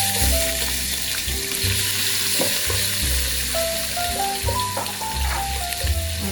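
Grated ginger, about one and a half teaspoons, sizzles in hot oil left from earlier frying for a kanthari chili biryani, a loud continuous close crackle with occasional stirring clinks.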